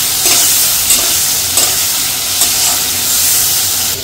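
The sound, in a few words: shrimp frying in a wok with spices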